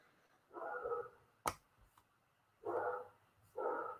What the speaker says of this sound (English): Sorry if you guys hear my dog barking.